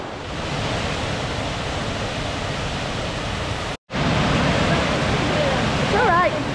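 Aysgarth Falls in the Yorkshire Dales running full after heavy rain, a dense, steady roar of rushing water close by, briefly cut once, with a faint whistle-like sound near the end.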